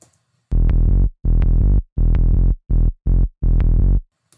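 A heavy, distorted Serum synth bass plays six sustained notes in a rhythmic pattern, loud and gritty, separated by short gaps of silence, with no voices.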